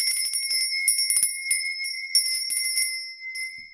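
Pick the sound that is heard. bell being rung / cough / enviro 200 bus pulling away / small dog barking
bell being rung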